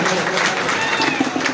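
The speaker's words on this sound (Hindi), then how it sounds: "जोरदार तालियों से उनका इस्तकबाल किया जाए दोस्तों" Applause from a crowd greeting the poet Mujawar Malegavi at an all-India mushaira in Mominpura, Nagpur: dense, steady clapping that fills the whole stretch at even loudness, with a voice faintly audible underneath.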